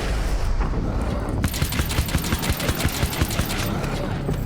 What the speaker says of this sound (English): Okay, maybe the nail gun isn't so great